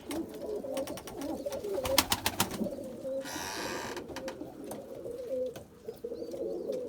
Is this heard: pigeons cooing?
yes